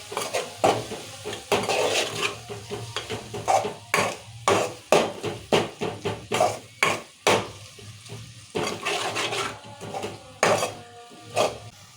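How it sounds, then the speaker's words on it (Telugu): Coriander powder and spices being stirred into oil in a pot for mutton curry, with repeated clanks and scrapes of a utensil against the metal in an uneven rhythm over a low background hum, close up and with no voices. "ఇలానే ధనియాల పొడి కూడా వేసుకోవాలి ఇవన్నీ బాగా కలుపుకోవాలి నూనె మంచిగా మగ్గాలి ఇవ్వాలి"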